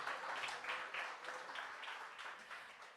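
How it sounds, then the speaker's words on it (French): Audience applause at the official launch evening of a student improvisation league, greeting students and teachers from an adult education centre in Charlesbourg; steady, fairly quiet clapping from a moderate crowd throughout, with no talk over it. "Belle main d'applaudissements pour eux"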